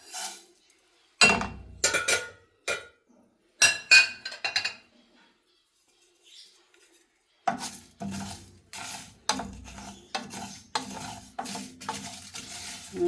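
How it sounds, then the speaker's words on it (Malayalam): Dry spices and two or three chillies rattle and scrape as they are dry-roasted in a hot pan for sweet lemon pickle, with clinking bursts, a quiet pause, then busier stirring. "പാൻ അടുപ്പത്ത് വെച്ചിട്ടുണ്ട്. വറുത്തെടുക്കാൻ വേണ്ടിയിട്ട് അതിൽ 2-3 മുളകും കൂടെ ഇട്ട് കൊടുക്കാം."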